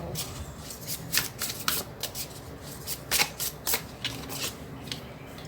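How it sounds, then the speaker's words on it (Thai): Tarot cards being shuffled by hand during a fire-sign love reading, a close series of crisp riffling bursts and soft slides in an irregular rhythm, heard alone without talk. "ขอไพ่ทัดไฟหน่อย"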